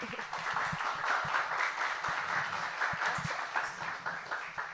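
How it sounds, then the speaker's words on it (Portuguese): Audience applause at a seminar lecture in Portuguese, with steady, fairly dense clapping sustained throughout as the speaker is welcomed to the stage. "Uma salva de palmas, por favor."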